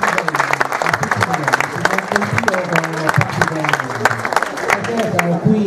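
A conference audience claps in a steady patter of applause, with a voice talking over it and sharp individual claps standing out near the front.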